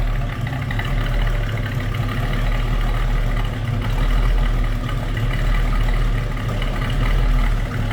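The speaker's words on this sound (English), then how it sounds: "A little rumble coming out of that small block." A 1968 Chevrolet C10 Stepside pickup's small-block V8 idles steadily nearby, a low, even rumble that stays constant, with no voices over it.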